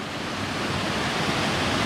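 Codfish Falls, a good-sized waterfall in Connecticut, pours in a steady, loud, close roar of rushing water with no pauses.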